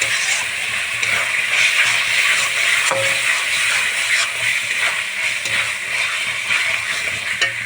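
Chicken pieces fry in a pan with turmeric and chilli powder, a loud continuous close sizzle and hiss with occasional stirring knocks, and no talking.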